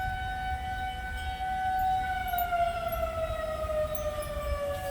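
Wailing tornado warning sirens sound during a storm, two steady rising-and-falling tones that slowly drift lower, continuous and fairly prominent over a rumbling wind-like background.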